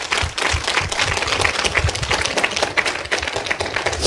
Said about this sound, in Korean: 국진이사장님께 큰 감사의 박수를 보내주시면 감사하겠습니다